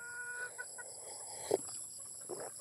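Four-month-old gamefowl chickens on a hillside breeding range give soft, scattered clucks and short calls, one slightly louder burst in the middle, against quiet outdoor ambience.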